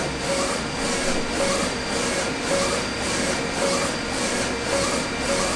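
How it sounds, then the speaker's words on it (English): A direct-to-film printer lays down a T-shirt transfer with its lid open, giving a steady mechanical whir and a regular back-and-forth carriage pulse, loud and close, with no voices. "So I opened up the top so you guys can see what it looks like printing"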